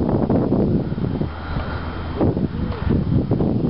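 Wind gusts across a mountain platform at Winter Park, Colorado, buffeting the microphone with a continuous low rumble that swells and eases without any talk.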